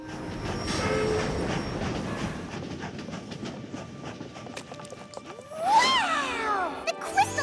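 A cartoon passenger train rolls along with rumbling wheels and clatter, then brakes squeal sharply near the end while voices speak over it.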